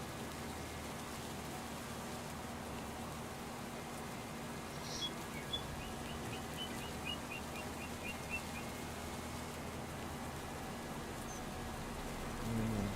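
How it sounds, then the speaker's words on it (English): Steady soft rain hiss in Farming Simulator 25, a continuous even patter with faint chirping bird-like calls drifting through the middle and a low rumble near the end. "Is it raining? I think it's raining"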